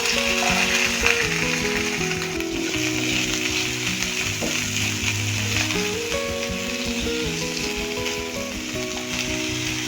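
Chopped ginger, green chilli and onion sizzle steadily in hot oil with a spice tempering in a tarka pan, a continuous loud frying crackle with occasional scraping of a spoon and no talk.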